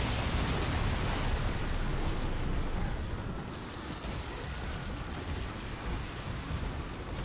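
Explosions rumble through the action game Darksiders, a dense, continuous roar of booming blasts and bursts with heavy low-end, loud and unbroken throughout with only a brief dip midway.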